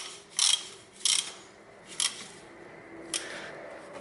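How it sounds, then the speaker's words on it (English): Ratchet tightening the central bolt of a timing belt tensioner on a 1992–2002 Toyota Corolla, four separate short ratcheting clicks, close and crisp, the last one fainter, with a quiet background and no voices. "I fasten this tensioner central bolt"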